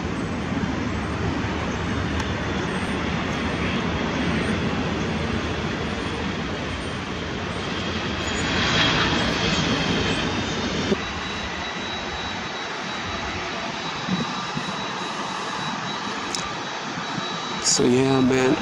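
Airplane engines at an airport roar steadily in the distance, swelling midway, over traffic noise; voices talk over it at times.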